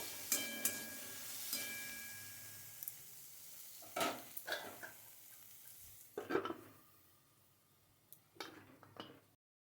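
Green tomatoes cooking in a pan are stirred in a few scattered, soft scraping strokes over a faint steady sizzle, close but quiet, with pauses between movements and no talk.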